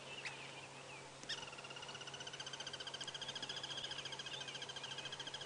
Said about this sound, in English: I can hear the call of a very special bird called a crested barbet going.